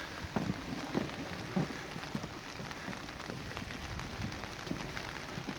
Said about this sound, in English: And it's still raining and raining and raining.